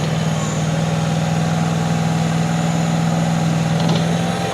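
A mini excavator's V-twin engine runs at a steady, loud idle with a constant low drone and no pauses.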